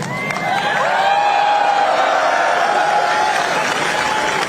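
A large crowd of troops clapping and cheering together, a dense sustained wash of applause with raised voices, loud and continuous throughout.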